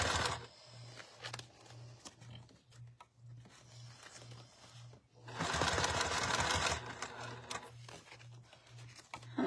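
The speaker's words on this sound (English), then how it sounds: "I just take my time when I'm doing my top stitching so that I don't get any skip stitches" A sewing machine runs in short regular bursts while top stitching clear vinyl, its steady rapid thump pausing briefly midway, with rustling handling noise and a louder patch of movement partway through.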